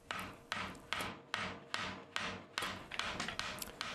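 A hammer drives a punch against a stuck part on a Hendey lathe headstock, ringing metallic blows landing about every half second, close and loud, with a few quicker double strikes near the end.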